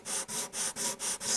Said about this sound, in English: Wrap the sandpaper around it, get it as flat as possible, and holding it firmly on the surface,